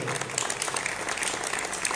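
A crowd at a municipal thank-you ceremony for civil protection volunteers in San Severo applauds steadily, a dense, even wash of clapping hands.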